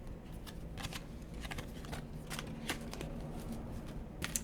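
Tarot cards are shuffled repeatedly up close, a series of quick riffling bursts with soft flicks between them, no talking.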